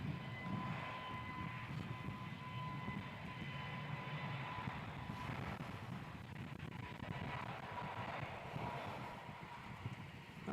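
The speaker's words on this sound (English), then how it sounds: "There we go, Jetstar A321 heading up to Brisbane" A Jetstar Airbus A321 taking off from Melbourne Airport for Brisbane, a distant, sustained, broad jet engine roar that stays fairly steady and faint throughout, with no voices.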